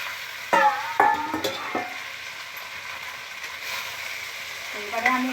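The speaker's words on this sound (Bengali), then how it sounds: "এবারে আমি একটু ভালো করে নেড়ে নিচ্ছি।" Banana stem muri ghonto is stirred in a hot pan with a quiet, steady sizzle of frying, broken by a few scraping strokes of the spatula.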